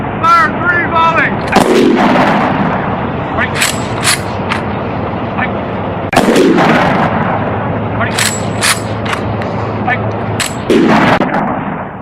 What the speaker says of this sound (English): Firing party! Fire 3 volley!